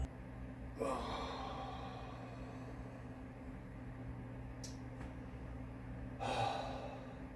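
Deep breathing during a rest-day yoga stretch: two audible breaths, a sharp inhale early on and another near the end, quiet and close, over a steady low room hum.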